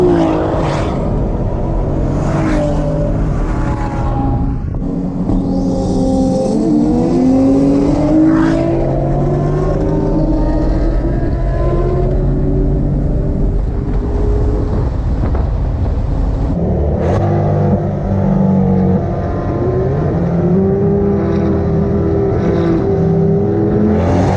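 Race cars accelerating hard in a Corvette C8, Ferrari 488 and Nissan GT-R contest, with loud, close engine roars climbing through repeated gear changes and continuous engine noise throughout, no talk.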